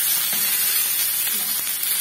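Masala-coated fish sizzles in oil over a low flame, a dense and steady close-up hiss with no pauses and no one talking.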